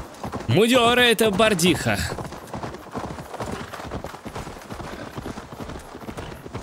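Horse hooves in Assassin's Creed Valhalla, a steady rhythmic clip-clop of a ridden horse moving at pace, heard under someone speaking at the start and continuing alone afterward.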